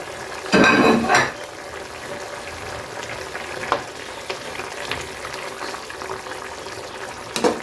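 Ginataang manok, a chicken stew, bubbling steadily in a pot as leaves and chilies are dropped in, a loud burst of sizzling splash near the start, then continuous soft simmering with occasional small clinks.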